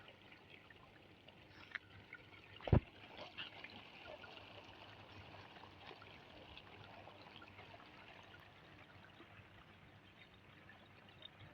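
Irrigation water flowing through a pipe into a farm field, a faint continuous trickling and rushing stream with one sharp knock partway through.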